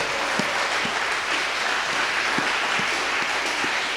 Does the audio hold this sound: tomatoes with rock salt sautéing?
no